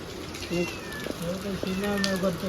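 A cat meows a few times, short wavering calls close by, with quiet background noise and no talking.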